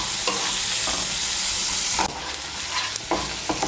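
Chopped onions frying in a pan for an egg curry, with a loud, steady sizzle throughout and occasional scraping stirs of a spatula.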